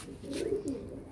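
A Madrasi pigeon gives a single close, rolling coo that swells and dips over about a second, loud against a quiet background.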